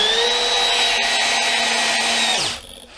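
A DeWALT 12V brushless DCD701 cordless drill on speed 1 with electronic clutch drives an 8 gauge by 2 inch screw into wood, a steady high motor whine with a loaded drone that winds down sharply near the end.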